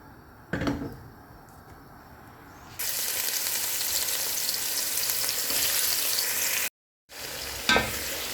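Loud, dense sizzle of garlic, onion, tomato and green chilli frying in oil previously used for frying fish, with occasional utensil scrapes and stirring; a brief dropout near the end, no talking.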